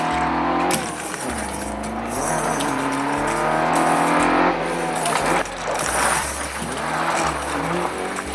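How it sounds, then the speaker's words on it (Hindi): A toy robot transformed into a dune buggy drives along with a steady, buzzy car-engine and racing sound effect, revving throughout over a low, thumping electronic backing. The sound is loud and continuous, with no one talking. "ये रोबोट ड्यून बगी में बदल गया है। ये एक प्रकार की गाड़ी है जो रेत पर अच्छे से चलती है। चलो इसे चलते हुए देखते हैं।"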